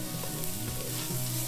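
Two small bay leaves sizzling in a hot pan, a close, steady frying hiss with light crackles throughout the short moment, nobody talking.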